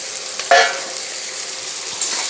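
Whole garam masala, bay leaf and hot chillies crackle in hot oil in a pan, a steady close sizzle with one sharp pop near the start, no talking.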